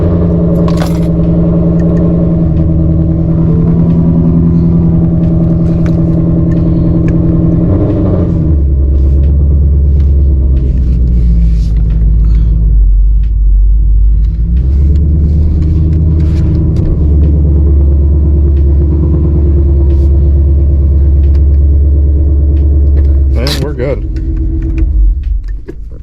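Car engine rumbling loud and close, with deep low-end revs that rise and settle over a long stretch, plus occasional clinks and handling noises, and voices talking now and then.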